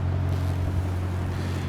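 A 2020 Mercedes-AMG S63 Coupé V8 exhaust holds a steady, deep, loud burble with an even throb throughout, heard close and alone.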